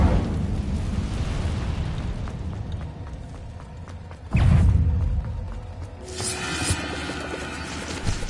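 A sudden fiery burst from a cast Incendio spell erupts in a cave in Hogwarts Legacy, one loud whoosh-boom rising over steady game ambience, followed later by crackling magical sparkle.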